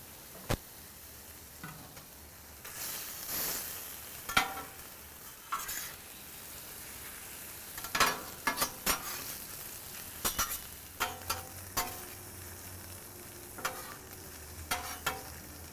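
A sandwich roll warming on a hot griddle for a Texas-style cheesesteak, giving a faint steady sizzle with scattered clicks and scrapes of a utensil stirring and tapping, close by and with no talking.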